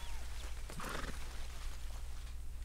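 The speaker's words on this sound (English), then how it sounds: "Say hello to your horse on the way by" A horse in Red Dead Redemption 2 gives a short whinny partway through, fairly faint against a steady low background rumble, with no talking.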